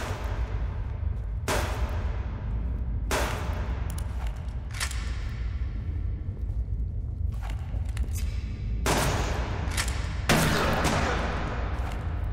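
Magnum gunshots ring out in Subsistence inside a lava cave, with about half a dozen sharp, loud cracks at irregular intervals, each trailing off over steady low background rumble.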